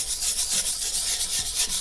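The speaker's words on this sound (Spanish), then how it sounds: "Luego, con una lija muy suave, le hago en forma circular." Fine sandpaper rubbing over a dried plaster coat in circular strokes, a soft steady rasping hiss that pulses with each rotation, close and continuous, with no talking.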